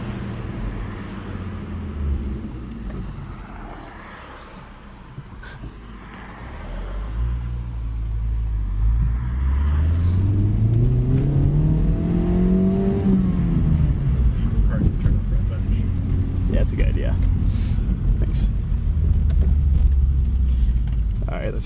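A 2024 Honda Civic Type R drives and accelerates, its engine note climbing in a rising sweep and then holding at a loud, steady pitch, with a brief remark from the driver early on.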